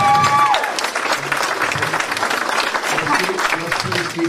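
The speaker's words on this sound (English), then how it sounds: "Let's please keep our applause" Loud, sustained applause and clapping from a crowd at a county commissioners' meeting on a gun sanctuary resolution, with scattered cheers and voices mixed in throughout.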